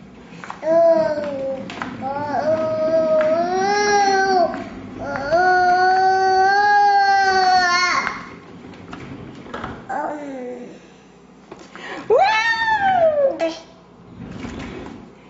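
A 10.5-month-old baby makes long, sing-song cooing and squealing vocalizations in bursts while being moved in a rolling high chair, with rustling and bumps of movement in between.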